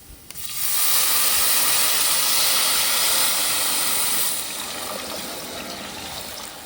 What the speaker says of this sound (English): now we are ready to add the water to the rice